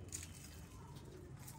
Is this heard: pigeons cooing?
yes